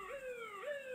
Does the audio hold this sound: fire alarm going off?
no